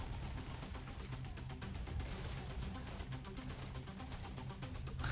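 In The Division 2, an automated turret keeps up dense, rapid gunfire throughout, a rattling burst-filled barrage heard close with no voices over it.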